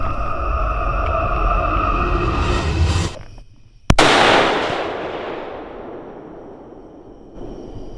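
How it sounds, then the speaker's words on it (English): A rifle fires one loud, sharp shot at a hog during a long-range night hunt, and its long echo fades slowly after a steady background hum. "All right, I'm gonna shoot him."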